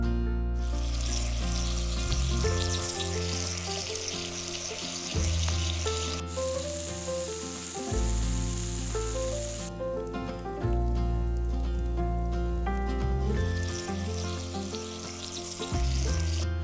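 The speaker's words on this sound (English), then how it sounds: "the smell of sizzling bacon pulled us from sleep" Bacon frying in a pan for breakfast on an Alaskan fishing trip, a steady hiss that rises and falls in stretches beneath loud sustained music throughout.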